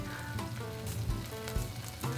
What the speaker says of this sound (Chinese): 另一面就让它慢慢的煎。